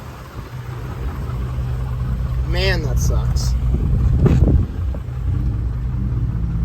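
A rusty car's 3.6-litre engine rumbles steadily and loudly nearby while someone talks briefly over the noise.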